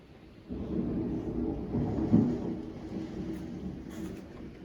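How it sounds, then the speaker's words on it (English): A thunderstorm rolls on with a steady low rumble and wash of rain, swelling at about half a second and peaking with a brief stronger crack near the middle before settling back to a constant roar, no voices present. "So while the storm is going down"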